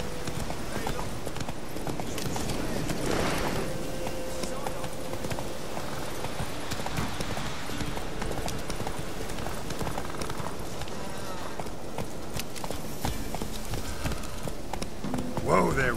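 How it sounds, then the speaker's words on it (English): Horse galloping in the video game The Witcher 3: Wild Hunt, a steady, continuous clip-clop of hooves running under game music and ambience, with someone speaking briefly. "Whoa there, Roach. Come on, Roach. Slow now."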